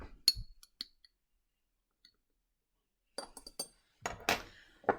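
A metal spatula clinks against a glass flask during a chemistry experiment adding magnesium carbonate to acid, sharp bright taps scattered across quiet moments, then a cluster of rapid clinks and scraping rattles toward the end.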